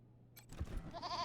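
A goat bleats in the video game Wasteland 3, a short soft cry rising after a brief quiet gap and trailing off, fairly faint.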